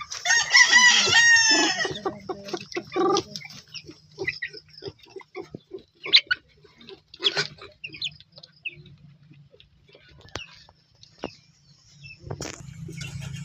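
Chickens and roosters in a Filipino backyard, a loud crow and dense clucking at first, then scattered nearby clucks and calls continuing more faintly.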